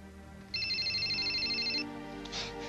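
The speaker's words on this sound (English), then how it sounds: "Come on, Denise, answer your phone." A telephone rings in a soap-opera scene with one steady electronic trilling ring burst of about a second, fairly clear, followed by quiet room tone and no speech.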